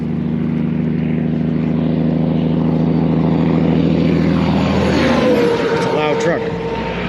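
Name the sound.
loud truck passing on road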